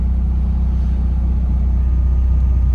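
Nissan 240SX with a turbocharged stock engine on a street pull, building boost to 10 psi, giving a steady, loud, close engine drone that holds constant throughout with no voices.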